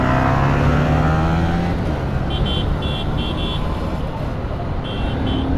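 A stunt rider drives a vehicle through road traffic on Independence Day, with loud continuous engine and road roar, passing cars and short repeated horn toots, and voices talking underneath.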